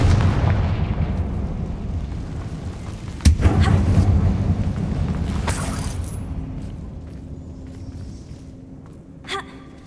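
A Confringo blasting spell in the Hogwarts Legacy video game lets out a sudden loud boom inside a mine, a rumbling roar that fades away over several seconds, with a second hiss-like burst in the middle and a faint clink near the end.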